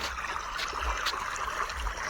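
Steady rushing of water flowing from a machine, like a stream from a pipe, continuous throughout with a low rumble underneath.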